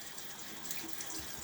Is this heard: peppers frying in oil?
no